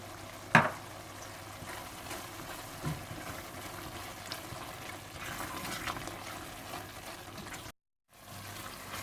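Masala for chicken makhani being fried with salt, red chili, cumin and coriander powder makes a soft, low sizzle with faint stirring. A sharp knock sounds near the start and there is a short dropout near the end.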